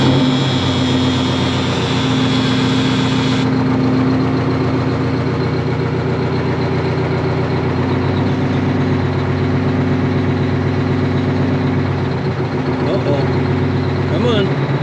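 A 1980 Peterbilt 359 with a Detroit 8V92 diesel fires up and settles into a loud, steady idle that is close by and runs throughout, with a high whine dropping away early on and voices talking over the rumble.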